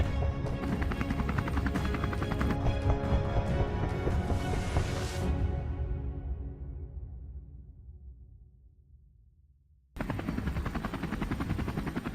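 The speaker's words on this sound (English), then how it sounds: "We were in the helicopter and headed out to the vast plains." A helicopter flies over open plains during a wild boar hunt in California. The loud, steady rotor chop fades gradually as it moves away, then returns suddenly at full strength near the end.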